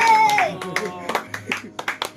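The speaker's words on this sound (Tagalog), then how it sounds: "Palakpak!" A small group of people claps in brief uneven bursts for volunteers, with a voice talking over the start and the claps trailing off as separate scattered hand slaps.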